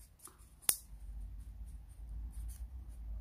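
Colored origami paper is folded and pressed flat along a crease, giving one sharp crisp snap followed by soft rustling and rubbing, close and quiet.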